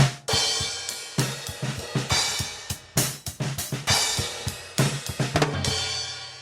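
A full drum kit recorded with two overhead mics, one above the floor tom and one above the hi-hat and crash, plays a lively groove with sharp snare hits, kick thumps and cymbal crashes, even, roomy and balanced.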